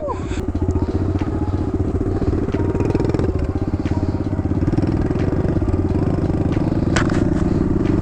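A dirt bike engine roars loud and steady at close range for the whole stretch, a dense rapid rumble with clattering, as a rider tries a wheelie.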